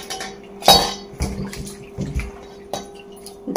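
Chopped bitter gourd being washed in a bowl, with a series of sharp clinks and knocks of the bowl and utensils amid light sloshing water, close and intermittent.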